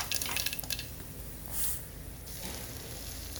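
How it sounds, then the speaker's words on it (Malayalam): Oil trickles and drips into a heated pan on the stove while a chickpea curry is being started, a faint, brief liquid pour amid quiet kitchen background. "അതിനായി ആദ്യം ഒരു പാത്രം അടുപ്പത്ത് വെച്ച് ചൂടാകുമ്പോൾ കുറച്ച് എണ്ണ ഒഴിക്കണം"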